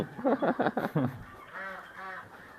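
Ducks honk and quack on a farm with a sheep breeding ranch, two drawn-out nasal calls following a stretch of close chatter.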